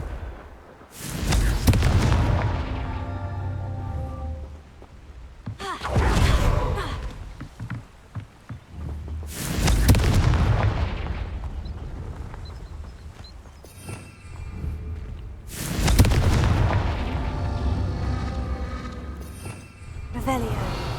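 Confringo fire spells in the Hogwarts Legacy game burst in four loud, booming explosions spaced a few seconds apart, each a broad roaring blast that rumbles and fades, with game sound and faint speech-like sound between them.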